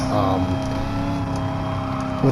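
A supercharged V8 engine of a Chevrolet C6 Corvette ZR1 drones steadily from inside the cabin, a low continuous rumble with a slight rise near the end; a voice talks briefly over it.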